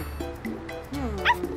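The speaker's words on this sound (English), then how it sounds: "There's a lost puppy!" A lost puppy in a cartoon setting whimpers and yips in thin, rising cries, a few soft whines and then a sharper yelp, close and fairly quiet.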